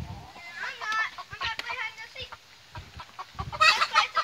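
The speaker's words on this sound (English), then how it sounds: "We're about to hand feed some chickens." Chickens in a pen cluck and squawk repeatedly, close by, in short irregular bursts, with a louder flurry near the end and some talk mixed in.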